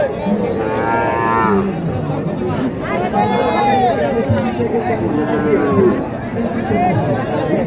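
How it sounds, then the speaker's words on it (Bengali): Sahiwal cattle at a busy livestock market moo repeatedly, with several drawn-out calls heard close by over steady crowd chatter and voices. "দেখেন চাচা গরু দেখেন শাহিওয়াল"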